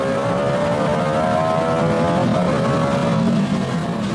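A Maserati race car engine drones steadily on a track, close and loud, with a continuous tonal whine that holds at a sustained pitch through the clip.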